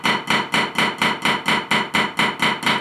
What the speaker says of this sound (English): watch my left hand when I'm playing the right-handed flams